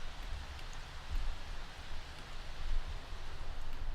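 Steady broadband rain hiss from a rainstorm in The Sims 3, a constant soft wash of falling drops with gentle swells in level and no voices.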